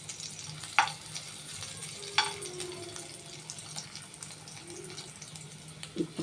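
Crushed spices sizzling in a hot pan, a low steady fry with a few sharp clinks and stirring scrapes, close and moderately loud, no talking.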